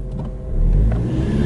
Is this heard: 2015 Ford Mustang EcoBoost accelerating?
yes